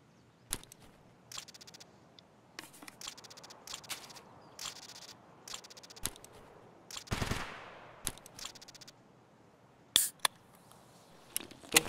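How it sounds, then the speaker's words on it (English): Gunfire in a shooter game at Shoreline, scattered bursts of rapid shots of varying length, some distant and muffled, a sharper burst near the end, no talking. "Someone's shooting."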